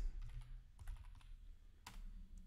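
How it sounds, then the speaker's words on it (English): Keystrokes on a computer keyboard while commands are typed into a command prompt or PowerShell terminal, a quiet scattering of irregular clicks with one firmer tap near the end. "Type the following commands."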